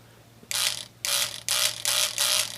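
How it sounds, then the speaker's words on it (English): A small Micromart jigsaw runs in five short bursts of about half a second each, switched on by a press button, a loud buzzing whir near at hand with quiet gaps between bursts and no voices. "it's a beautiful little jigsaw from Micromart, and it has a little button on it"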